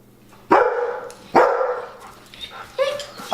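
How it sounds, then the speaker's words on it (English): German Shepherds bark indoors after a doorbell, several loud close barks spaced about a second apart, followed by higher whining yelps. "Doorbell rang and I have German Shepherds."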